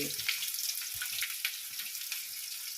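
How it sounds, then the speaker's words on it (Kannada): Mustard seeds, dried red chillies and onion frying in hot oil, a steady close hiss with faint crackles and a few soft low knocks, no voices. "ಫಸ್ಟು ಸಾಸಿವೆ ಹಾಕ್ಕೋಬೇಕು ಆಮೇಲೆ ಒಣ ಒಣಮೆಣಸಿಕಾಯಿ ಆಮೇಲೆ ಈರುಳ್ಳಿ"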